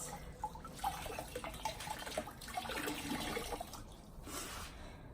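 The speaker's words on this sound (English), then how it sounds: "Squeeze the water out." A soaked wash towel being wrung out over a bucket during a no-rinse car wash, with close trickling and dripping water and intermittent splashes.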